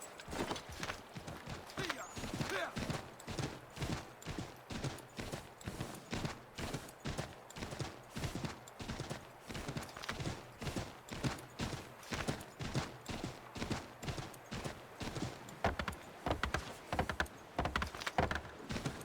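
A horse gallops in Assassin's Creed 3, its hooves pounding in a fast, steady rhythm for the whole stretch, moderately close and fairly quiet.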